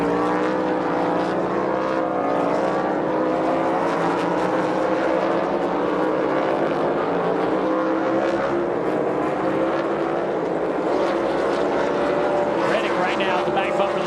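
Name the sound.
NASCAR Cup Series race cars racing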